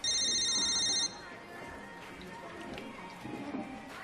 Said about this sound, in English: Are you aware that the phone is ringing?